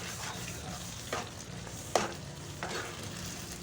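Aloe vera halwa with added kernels is stirred in a hot pan, with three distinct scraping strokes over a soft, constant sizzle.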